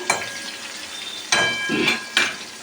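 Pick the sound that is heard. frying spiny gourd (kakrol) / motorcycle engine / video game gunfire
frying spiny gourd (kakrol)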